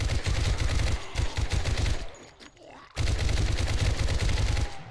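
Rapid, sustained Uzi submachine gun bursts in 7 Days to Die, loud and close, with a brief pause in the middle before the automatic fire resumes.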